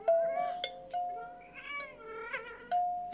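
A female cat meows several times in a row, clear and close, with drawn-out rising and falling cries and short pauses between them; no one speaks.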